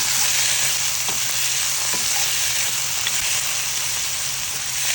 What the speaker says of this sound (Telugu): కొంచెం టమాటా ముక్కల్ని కూడా వేసుకొని మెత్తగా ఉడికించుకోవాలి.